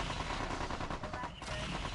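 Mechs in Mech Commander 2 open fire in a dense, continuous barrage of weapon shots and explosions, loud and steady throughout with no talking.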